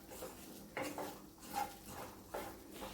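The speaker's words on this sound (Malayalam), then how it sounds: "തുടരെ ഇങ്ങനെ ഇളക്കിക്കൊണ്ടിരിക്കണം, കൈ വിടാതെ ഇളക്കണം" Chammanthi podi dry-roasting in a pan and stirred constantly, heard as soft, quiet, repeated scraping strokes of a spoon against the pan in a steady rhythm.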